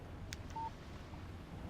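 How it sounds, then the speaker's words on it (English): A short electronic alert tone of a phone text message in the video game Alan Wake, a couple of brief faint beeps over a quiet hum, with no speech. "Text message from Barry."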